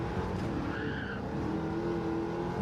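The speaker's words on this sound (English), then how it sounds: "the car was just revving and going nowhere" Racing car engine in Gran Turismo 7 revving steadily without pulling away, a constant droning whine layered with tire squeal, loud and continuous throughout.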